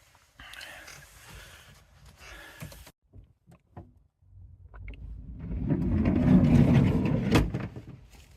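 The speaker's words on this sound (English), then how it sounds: "there was a car reversing up and it's just driven off" A car at night near a campsite, first a soft idle, then a pause with a few knocks, then an engine swelling louder as it pulls away, with no talking.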